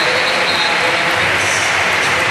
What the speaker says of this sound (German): Birgit Prinz geht. Sie kriegt Beifall.